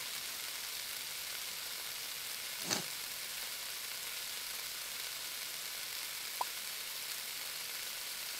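Steak sizzles in a skillet in the Cooking Simulator video game, a soft continuous frying hiss with a brief clink partway through and a faint tick near the end.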